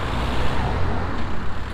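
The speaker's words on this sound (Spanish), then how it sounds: "coches, motos, ruido de tráfico." Steady roar of street traffic with cars and motorbikes passing, a dense continuous rumble of engines and tyres close by, with no voices.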